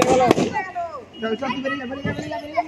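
Sharp balloon pops from a school children's balloon-bursting game, with a loud burst near the start and a few quieter pops later, mixed with children's shouts and chatter.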